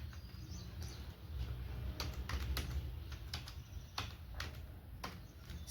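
Clicky typing on a computer keyboard while entering code for a homemade AI voice assistant, with irregular bursts of keystrokes over a faint steady background hum and no talking.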